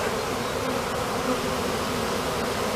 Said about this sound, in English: it looks like there's a lot of bees in that box.